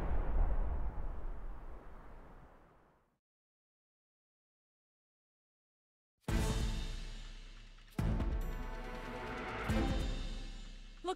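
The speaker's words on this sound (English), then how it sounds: "A fire? No, an explosion." Explosions in the video game Tales of Luminaria: a loud, broad rumbling blast fades out by three seconds, then after silence several sharp, crashing bursts hit in quick succession and ring on, loud and close with no talk.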